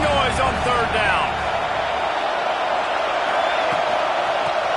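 A home crowd roars on third down in a Miami versus Georgia college football video game, a loud, unbroken wall of noise, with brief talk near the start.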